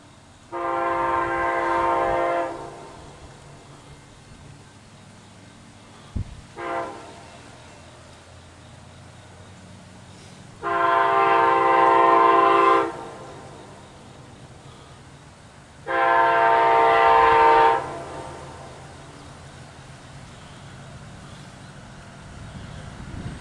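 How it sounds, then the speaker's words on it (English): An eastbound Amtrak P030 train passes on track 2, sounding three loud, long horn blasts separated by pauses, with a brief clank between the first two and steady rumble of the passing train underneath. "It's Amtrak P030 eastbound 2-track."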